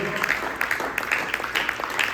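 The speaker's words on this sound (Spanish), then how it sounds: "Give God a hand." A church congregation claps steadily in a reverberant room, a dense patter of applause without voices.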